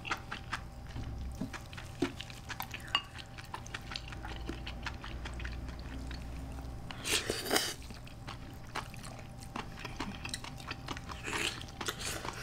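Someone eating soy sauce marinated raw crab up close, with continuous wet chewing, sucking and squishing, scattered crunchy bites and a louder slurp partway through, no talk.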